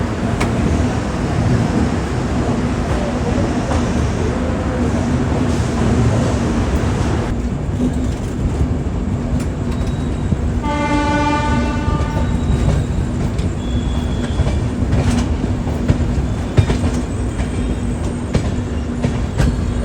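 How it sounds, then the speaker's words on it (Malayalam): The Bengaluru–Hazrat Nizamuddin Rajdhani Express rolls along just after departure, a loud, continuous rumble and rattle of the carriages heard from on board, with brief rhythmic wheel clatter partway through. "അങ്ങനെ നമ്മുടെ ബംഗളൂരു രാജധാനി എക്സ്പ്രസ് അങ്ങനെ കറക്റ്റ് ഷാർപ്പ് 8 മണിക്ക് തന്നെ ഡിപ്പാർട്ടായിരിക്കുകയാണ്"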